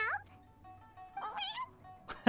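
A character in the Genshin Impact video game lets out a short, startled cat-like noise, with rising meow-like tones at the start and a brief high cry later, over quiet game background.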